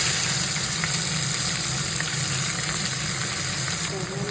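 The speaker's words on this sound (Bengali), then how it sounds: "এবার ভাজবে হচ্ছে পেঁয়াজগুলো।" Onions fry in hot oil with whole garam masala spices, cardamom and cinnamon, producing a loud, steady sizzle with faint stirring scrapes and a low background hum.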